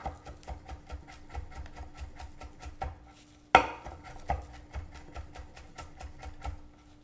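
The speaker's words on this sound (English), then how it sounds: "I'm finely chopping the parsley." A knife finely chops fresh parsley on a cutting board in quick, even taps, close and crisp, with one louder knock partway through and no talking over it.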